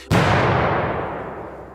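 A sudden loud explosion bursts from a motel room at night, sending up a fireball; a single heavy boom is followed by a long rumbling decay, with no voices.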